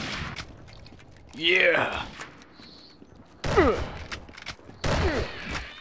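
Gunfire in the online zombie shooter Zombie Master: scattered shots and clatter in short bursts, loud then fading, with a voice talking between them.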